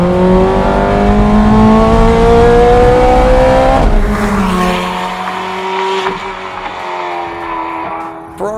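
A Ferrari 16M Scuderia Spider, the convertible version of the Scuderia, drives hard with a loud, rising engine howl. It shifts midway and its tires squeal audibly, then it settles into a lower, quieter run.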